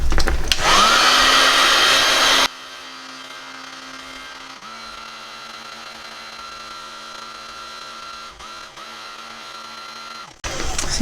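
A heat gun blows hot air over poured resin on a 3D tray and coaster set, giving a loud steady whoosh that drops to a quieter continuous hum, then swells again at the end.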